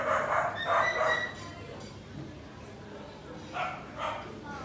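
A few dogs caught by dog catchers bark and yip in short bursts at a distance, with quiet background murmur between the barks.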